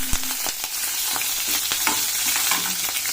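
Green chillies fry in hot oil in a pan with a dense, loud, continuous sizzle, punctuated by scattered crackles and pops and the scrape of stirring, as besan kadhi is cooked.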